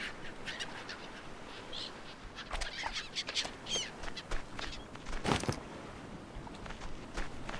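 Birds call in the video game Stranded Deep, with scattered squawks and chirps, some duck-like, rising over a soft ambient backdrop at moderate distance, with no talk.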